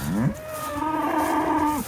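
A cow moos in one long, drawn-out low call, fairly close and clear, with no talking.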